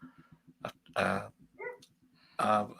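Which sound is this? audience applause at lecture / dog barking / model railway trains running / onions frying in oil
dog barking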